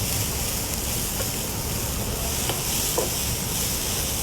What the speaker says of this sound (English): So the mushrooms are sauteing really nicely now.